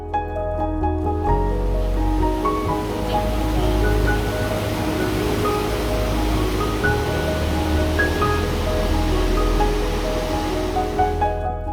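A waterfall on Jeju Island pours in a steady, broad rushing wash, close and continuous, with faint tonal music layered over the roar and no talk.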